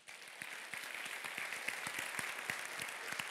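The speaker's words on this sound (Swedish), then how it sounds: "En varm applåd för Martin Ingvar" Lecture audience welcoming a speaker with warm applause, a steady crowd clapping that swells quickly and carries distinct individual claps throughout, with no talk over it.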